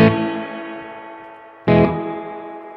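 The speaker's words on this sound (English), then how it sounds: "You can hear all the little bounces of the springs rattling." A guitar played through a Boss RV-6 pedal on its spring reverb setting: two loud struck chords, each ringing out in a long, rattly spring-reverb wash that slowly decays.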